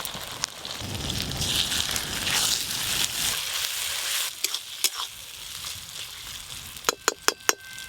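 Onions sizzle and hiss steadily in hot oil in a home kitchen after ginger-garlic paste is added for chicken curry, with stirring scrapes and a run of sharp utensil clacks near the end, close and loud, without talk.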